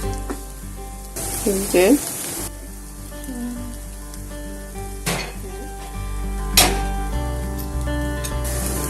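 Fish and green beans for bharta sizzle steadily in a pan while a utensil stirs and scrapes in short bursts, with occasional clinks against the pan and a brief voice.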